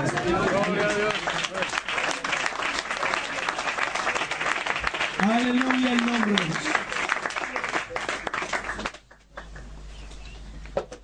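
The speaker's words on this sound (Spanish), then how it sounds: "Démosle un aplauso al Señor." A church congregation at a ministerial training class claps loudly and continuously in praise of the Lord while someone speaks over it; the applause cuts off sharply near the end, leaving quieter room sound.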